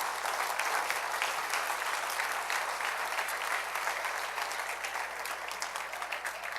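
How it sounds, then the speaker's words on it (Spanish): A church congregation applauds in a steady, dense roar of clapping that stays loud and close for the whole stretch, with no distinct voices standing out. "Dale un aplauso al Rey bendito."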